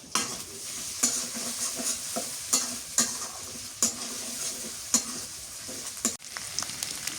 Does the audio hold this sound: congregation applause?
no